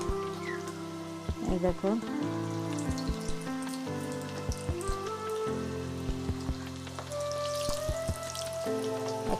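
Battered cauliflower pakora pieces drop one by one into oil that is not too hot, setting off a steady crackling sizzle and light bubbling, while someone talks briefly over it and music with sustained tones plays beneath.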